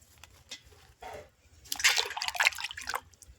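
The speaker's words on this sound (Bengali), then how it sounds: "এই বালতির জলটা আমি ধুয়ে নেবো, বালতির জলে আর কি" Sliced potatoes washed by hand in a bucket of water, with soft sloshes and splashes building into a louder burst of churning, dripping water near the end, close by and with no voices.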